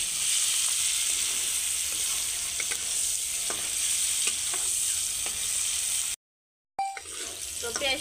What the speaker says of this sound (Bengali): এবার পেঁয়াজগুলোকে অল্প লাল করে ভেজে নেব।